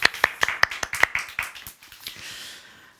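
A small group claps in praise during an online teen Sunday worship service at a church, starting with crisp rhythmic claps that blur into scattered applause and fade out within a few seconds.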